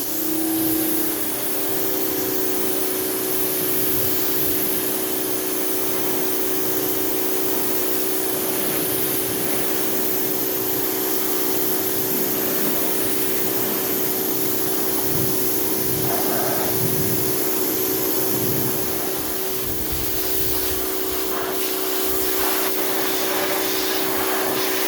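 Degreaser being sprayed off the engine bay of a 1984 Mercedes 300TD, a loud steady hissing spray with a droning tone that runs unbroken throughout, no talking.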